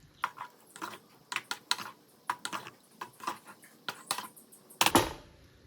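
Prawn masala is stirred in a pan, giving a quiet run of irregular close clicks and taps from the utensil against the pan, ending in a louder scraping clatter.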